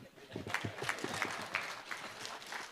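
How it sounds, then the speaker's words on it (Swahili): A crowd claps in a steady rhythm at a public security forum with a cabinet secretary in Kericho County, Kenya. Fairly close, repeated, even claps sound under a speaking voice. "Upige makofi mpaka waziri ndio atakuruhusu kuketi."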